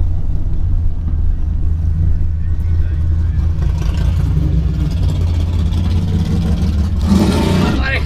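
A 2019 Ram pickup with a Hemi V8 pulls hard down a quarter-mile drag strip, a deep, steady engine drone heard from inside the cab that builds to a louder burst near the end of the run.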